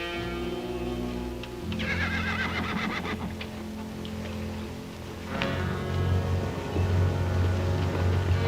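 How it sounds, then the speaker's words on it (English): A horse in a 1955 western film whinnies loudly, followed by hooves clip-clopping at a steady walk under a sustained musical score. "Tell Dobie to get the horse."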